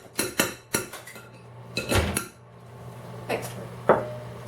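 A spoon scrapes and knocks against a bowl while blueberry cake batter is mixed, giving a run of sharp clinks and clatters in uneven bursts, close and fairly loud, with short quiet gaps between.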